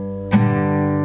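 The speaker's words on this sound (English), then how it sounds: "So I do 3 normal strums" Strummed acoustic guitar chords ring clearly, two bright strokes a little under a second apart, from a rhythm pattern for a song, with no voice.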